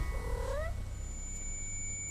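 A single rising cat meow from the Yellow Baby video game sounds early and close, then stops, leaving steady electronic tones over a low background hum.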